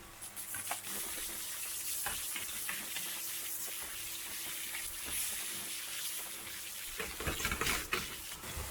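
Onions, garlic and bacon lardons sizzle in a frying pan with a steady, moderate hiss. A few clatters and stirring noises come near the end.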